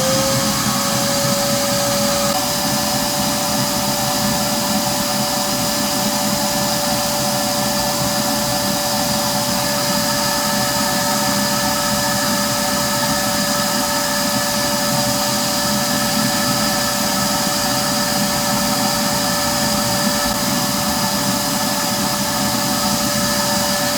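A siphon pump draws oil out of a Yardworks lawnmower in a steady, loud, continuous whine with a constant high tone that runs unbroken for the whole stretch, alone and without speech.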